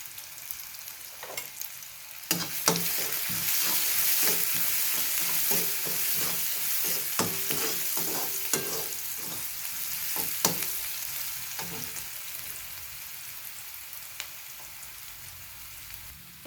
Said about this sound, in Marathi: कांदा लवकर शिजावा म्हणून त्यात आपण थोडं मीठ घालून घेऊया।